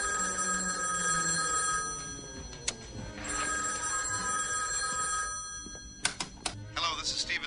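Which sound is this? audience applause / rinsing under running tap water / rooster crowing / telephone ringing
telephone ringing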